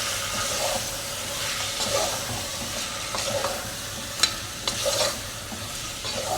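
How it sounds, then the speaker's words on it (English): Whole and powdered spices stirred in a hot pan give a constant sizzling hiss with soft repeated scrapes and one sharp clink of the utensil, close up and without voices. "I'm gonna add my whole spices, gonna add my powdered spices, and then I'm just gonna do a bit of a mix"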